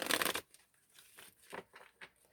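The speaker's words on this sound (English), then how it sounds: "Let me give it one quick little shuffle" A Modern Witch Tarot deck gets one quick shuffle: a loud burst of riffling cards up close, then a few softer slides and taps as the cards settle.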